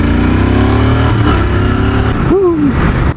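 Royal Enfield 650 twin motorcycle engine running steadily with a strong low rumble, followed by a rising rev near the end, heard up close.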